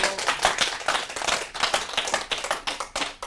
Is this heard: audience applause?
yes